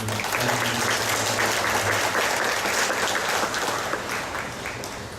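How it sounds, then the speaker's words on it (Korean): A church congregation claps to welcome a pastor back from a three-month sabbatical, sustained even applause filling the hall with faint low voices beneath. "박수로 환영하겠습니다"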